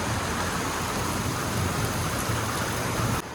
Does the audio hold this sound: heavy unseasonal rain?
yes